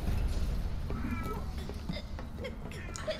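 A cat meows a few times, faint and somewhat distant, in Final Fantasy VII Remake, set against a steady bed of game ambience and rumble.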